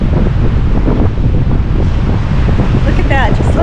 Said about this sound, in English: This is sea foam that's been washed up by these big waves.